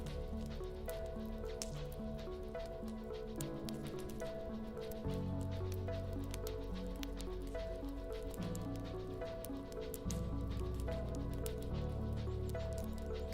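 Rain falls steadily in a soft, continuous patter with faint ticks of drops, moderately quiet and without talk.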